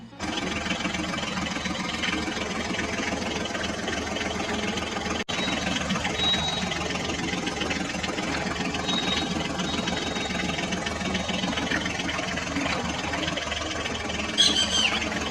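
A toy mini tractor engine runs steadily for the whole stretch, a continuous close mechanical hum and rattle like an idling small motor, with no clear speech over it.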